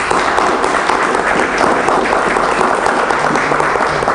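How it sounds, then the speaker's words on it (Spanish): Sustained audience applause at a history talk on José María Morelos and Mexican independence, dense and loud clapping that holds steady throughout with no voices. "Así es que pido un aplauso para José Manuel."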